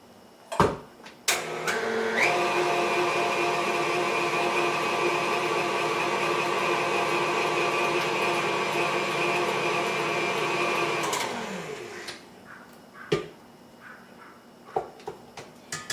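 An electric hand mixer whirs steadily for about nine seconds while blending carrot cake batter, starting abruptly after a few clicks and winding down near the end, with scattered knocks and taps before and after.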